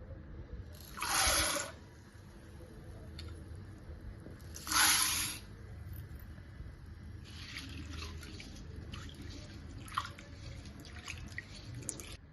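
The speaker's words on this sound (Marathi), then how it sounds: "चला तर आपण ते 2 पाण्याने धुवून घेऊया." Chana dal lentils being washed in water, with two separate bursts of splashing and swishing water, followed by softer intermittent drips and small wet sounds.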